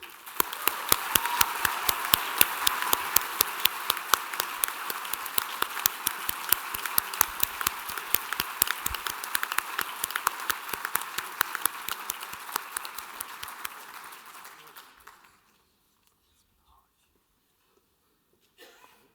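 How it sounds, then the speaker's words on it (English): Audience at a graduation ceremony claps for the graduates, a dense, steady round of applause that holds strong for about fifteen seconds before stopping abruptly into near silence. "Would all of the family, friends, faculty, and staff in attendance please join me in a big round of applause for our graduates."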